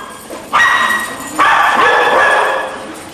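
A dog in play, torn between excitement and conflict, lets out two loud, sustained barking bursts close by, the second longer and trailing off.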